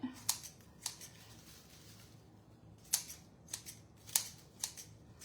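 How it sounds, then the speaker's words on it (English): Scissors snipping twine for a Thanksgiving wreath, a series of sharp, crisp cuts at uneven intervals, close and quiet with no talking. "we're just gonna cut these down a little bit"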